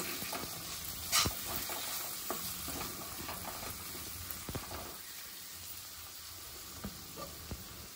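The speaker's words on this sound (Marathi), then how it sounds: "चांगलं मिक्स करते" Masala being stirred in a pan for hotel-style dal tadka, a faint continuous sizzle with soft irregular scrapes and one brighter clatter of the spoon early on, close and quiet.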